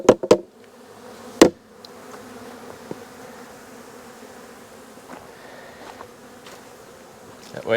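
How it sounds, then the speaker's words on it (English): Honeybees buzz steadily around an opened hive while the inner cover is rapped to shake them off, giving a few sharp, close knocks early on over the continuous drone. "The bees are fanning, looking for their queen."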